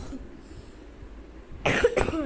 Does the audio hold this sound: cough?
yes